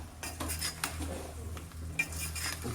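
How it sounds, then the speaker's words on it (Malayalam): Chilli powder stirred into food in a pot, with repeated scraping and clinking of a metal spoon against the pot at an uneven pace, a couple of sharper knocks, over a low background hum. "നല്ലപോലെ മുളക് പൊടി പിടിക്കാൻ പാകത്തിന് ഇളക്കി കൊടുക്കുക."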